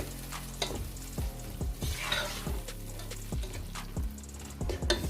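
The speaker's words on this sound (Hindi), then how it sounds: "इन चीज़ों को ऐड करने के बाद अच्छे से मिक्स कर लेंगे।" Ingredients for chicken bhindi stirred in a hot cooking pot, steady sizzling frying beneath repeated scraping strokes of a spoon against the pot, close and fairly loud, with no talking.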